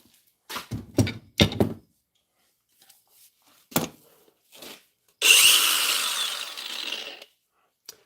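Several sharp knocks and thuds come first, then a repaired grinder starts and runs for about two seconds with a loud, harsh whine before cutting off.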